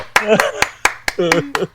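Sharp, loud hand claps repeat in a steady rhythm, about seven or eight, with a voice speaking between and over them.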